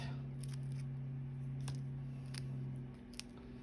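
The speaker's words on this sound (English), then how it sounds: "So I'm gonna cut my tape." Scissors snipping through tape while making a card, a handful of crisp, close cuts spaced irregularly over a low steady hum.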